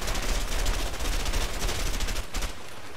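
Rapid bursts of gunfire in the video game A Way Out, loud and close, a dense continuous volley that thins out toward the end.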